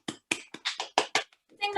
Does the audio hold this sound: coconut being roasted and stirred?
no